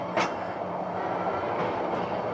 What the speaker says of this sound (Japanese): 先ほど連結したアプト式専用電気機関車の動力のみで坂を登ってまいります